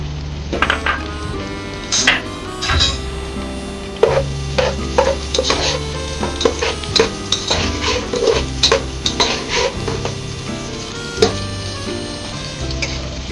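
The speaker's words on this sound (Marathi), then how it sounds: "तेल गरम झाल्यानंतर मला कांदा टाकून घेऊ" Onions frying in hot oil in a pan for a prawn biryani masala, a steady sizzle under repeated scraping and clinking of a spoon stirring against the metal pot, close and fairly loud with no voices.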